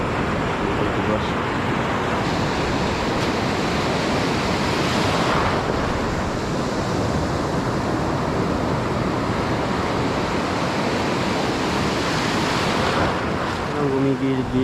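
Rough sea waves surge and crash continuously at sea under strong wind buffeting the microphone, loud and close, with a low hum of boat noise beneath.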